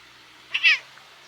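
A single close, clear kitten meow rises briefly out of near silence.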